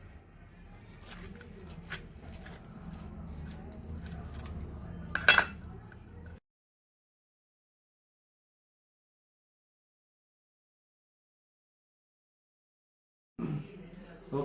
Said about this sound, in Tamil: பிளேட்டுக்கு ட்ரான்ஸ்ஃபர் பண்ணிவிட்டு இன்னும் கத்தி வச்சு கட் பண்ண வேண்டியதான்.